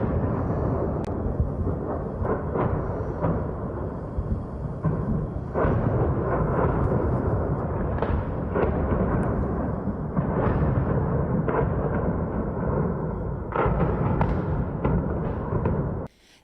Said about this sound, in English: was a barrage of 40 Ukrainian rockets hitting homes, shops, a cathedral, according to the mayor of Donetsk